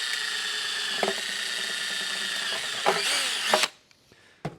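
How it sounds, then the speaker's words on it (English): A power drill bores a hole through sheet metal during fabrication of a square-to-round fitting, a steady high whine with a brief strain near the end, then it cuts off into quiet with a faint clunk. "Let's go ahead and drill a hole."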